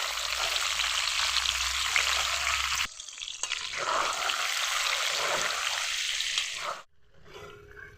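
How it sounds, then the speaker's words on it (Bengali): Eggs seasoned with turmeric and salt fry in a pan for biryani, a loud close sizzle that cuts out abruptly, resumes, then drops to quieter crackling at the end. "এখন ডিম ভেজে নেব, সামান্য একটু হলুদ দিয়ে দিচ্ছি।"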